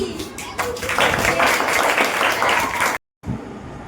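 An audience claps steadily and fairly loudly at a Teachers' Day celebration, sustained applause that cuts off abruptly near the end.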